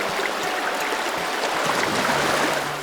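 Water flowing steadily through an ancient falaj irrigation channel in an arid mountain valley, a constant close rushing and trickling wash that stays even and fairly loud throughout, with no talking.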